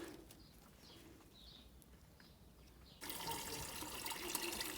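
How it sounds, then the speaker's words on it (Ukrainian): Warm water poured onto tomato plants in a garden, a steady splashing stream starting partway through, with birds chirping faintly in the background beforehand. "Помідори поливаю теплою водою"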